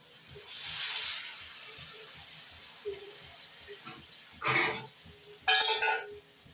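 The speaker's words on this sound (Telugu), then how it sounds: "ఇప్పుడు కొన్ని వాటర్ని పోదాం" Water poured into a pan of chicken curry gives a soft hiss near the start, then louder bursts of hissing steam and splashing later.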